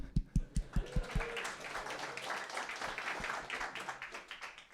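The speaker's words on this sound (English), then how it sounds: "Yeah, you can clap." At the Stockholm Hardware meetup number 10, a handful of sharp, separate claps ring out near the start, then fade as a voice takes over the rest of the stretch.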